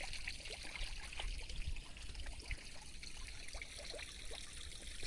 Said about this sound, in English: Listen to that water.